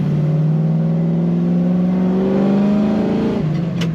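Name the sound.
1968 Chevrolet Camaro accelerating in third gear through a corner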